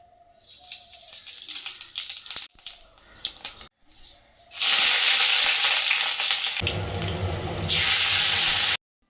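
Cumin seeds and onions frying in hot oil: a few quiet clatters, then a loud, steady close sizzle from about halfway through to the end.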